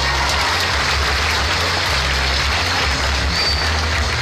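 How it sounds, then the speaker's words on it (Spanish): Strong, continuous applause fills a school hall as staff of Justo Sierra primary school in San Juan Colorado are honored at an end-of-year event, a dense even wash of clapping with low rumble beneath. "Nuevamente un fuerte aplauso para ellos"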